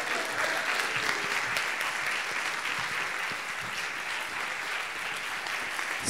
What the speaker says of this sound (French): On peut applaudir bien fort Sarah,